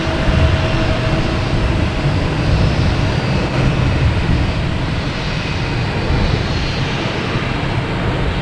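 A Delta Embraer E175 regional jet departing Boston Logan for LaGuardia, heard as a steady, broadband engine rumble and rush that stays fairly loud and even throughout, alone without voices.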